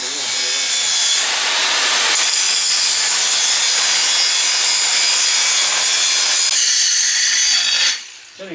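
Metal being ground on the hitch of a cultipacker converted to three-point: a loud continuous abrasive grinder hiss close by, holding steady for about eight seconds before cutting off.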